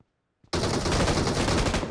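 Enemy gunfire during a jump shot in PUBG Mobile, a sudden, loud, continuous burst of rapid automatic shots that kicks in after a near-silent half second and keeps going without a break.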